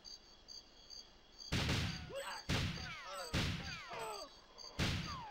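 Gunfire in the Nintendo 64 game GoldenEye 007, set in a cave: four sharp, loud shots at uneven intervals, each with a ringing, whistling tail, over a faint insect-like ambient chirp.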